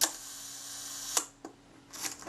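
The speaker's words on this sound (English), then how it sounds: "If I cock the shutter there, the shutter should stay open on B, and it does." A Retina IIa camera shutter set to B fires with a sharp click, stays open for about a second, then closes with a second click. A fainter third click follows, each one close and crisp against quiet.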